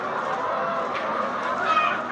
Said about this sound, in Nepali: यहाँ पनि देसी कुखुरा अन्डा फारमै फारम हेर्नुहोस्